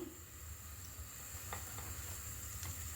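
Butter melts in a hot pan with a steady, quiet sizzle and hiss, broken by a few faint pops, with no talking.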